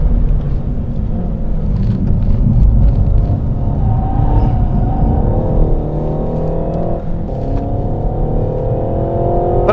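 A Renault Megane RS with a 2-litre engine accelerating at speed above 130 km/h, a steady loud engine drone with rising harmonics climbing through the gear, heard from inside the car and alone without talk.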